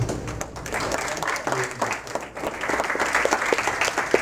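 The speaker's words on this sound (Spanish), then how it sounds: "Por favor, recibimos con un fuerte aplauso." A university lecture audience claps steadily in welcome for a visiting professor, a dense, fairly loud patter of many hands filling the room for a few seconds with faint voices underneath.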